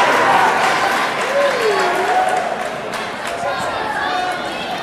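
Applause ripples through the crowd at a girls' high school volleyball match in a gym, steady clapping mixed with crowd noise and a commentator talking over it.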